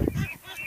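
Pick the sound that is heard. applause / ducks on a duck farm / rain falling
ducks on a duck farm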